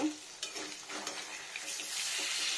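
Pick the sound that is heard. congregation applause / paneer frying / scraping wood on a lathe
paneer frying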